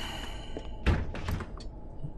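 A door thuds shut in the horror video game Pineview Drive, one heavy low thump followed by a short rattle and softer knocks, fairly close with no talk.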